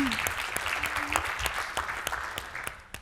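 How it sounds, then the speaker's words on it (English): An audience at a talk on impact measurement applauds, with scattered individual claps over a murmuring crowd and a brief voice, fairly close and moderately loud. "You can also give a big applause to yourself."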